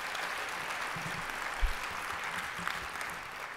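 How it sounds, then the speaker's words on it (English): Audience applause for city council members at a Denver housing summit, a soft continuous patter of many hands clapping, fairly distant and even, with no speech. "Would you give our city council members a round of applause?"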